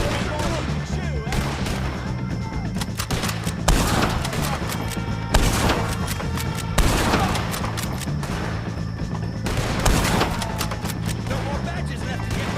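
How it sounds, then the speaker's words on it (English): Sustained gunfire in the Red Dead Redemption 2 video game during a shootout with O'Driscoll gang members, dense rapid shots and booms over loud continuous battle noise, with shouting voices. "Take a shot on these O'Driscolls! Move up there, shoot!"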